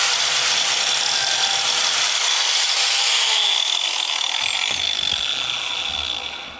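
A biscuit joiner cuts slots in wood for box furniture. The motor gives a loud, steady, high whine as the blade runs, then winds down near the end. The sound is close and no one speaks over it.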